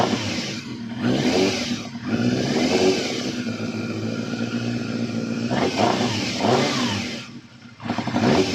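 A vintage motorbike engine fired on fresh petrol runs loud and close, its note rising and falling through repeated revs over a steady idle, with no one speaking over it.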